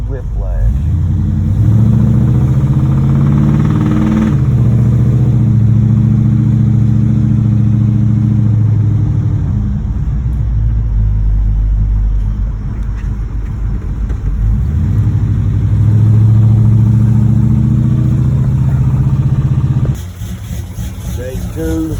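A 1986 Monte Carlo SS with a knocking rod drives steadily, its engine a loud, constant low rumble close by with brief shifts in load, no speech over it.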